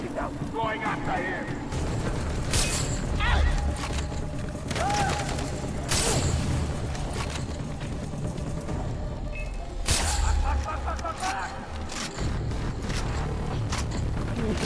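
Sniper gunfire in a Bangla village drama fight scene: a few sharp, loud cracks several seconds apart, each cutting through a busy background with voices.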